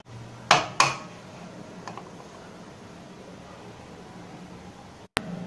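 A knife cuts milk coconut burfi into pieces on a plate, with two sharp metallic clinks close together at the start, then a quiet stretch and one brief click near the end.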